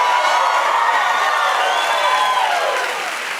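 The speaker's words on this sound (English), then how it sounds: "What a crowd!" Studio audience at a late-night comedy show cheering, clapping and whooping loudly, a dense sustained roar that fades slightly toward the end.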